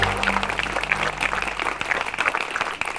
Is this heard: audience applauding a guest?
yes